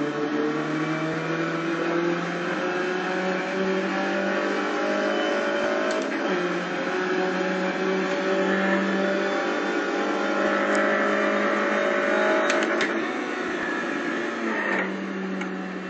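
A rough-running car engine runs steadily and a bit unevenly for the whole stretch, with a low droning hum and small surges in pitch, no talking.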